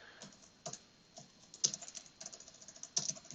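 Typing on a computer keyboard in a quiet room, with soft, close clicks and a few taps in irregular bursts.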